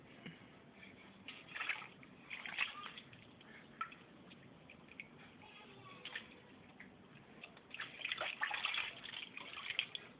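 A baby gets a first bath with soap, with soft, close water splashes and drips in uneven bursts under quiet background noise. There are occasional murmurs of adult voices.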